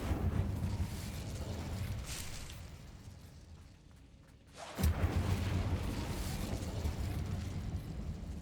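Incendio fire spell cast in the Hogwarts Legacy video game, a sudden loud whooshing burst of flame after a brief lull, followed by a sustained roaring crackle with low rumble.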